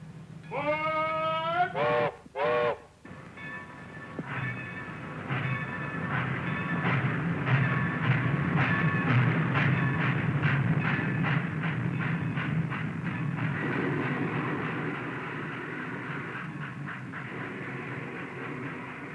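A train horn blares with stacked harmonic tones over a steady low rumble of passing rail cars, continuing loud and close for most of the stretch.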